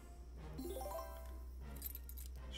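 Keys jingle as a sound effect in the Hacksaw slot machine game Bowery Boys, a soft metallic tinkle with rising chimes repeated twice, quiet and alone without talk.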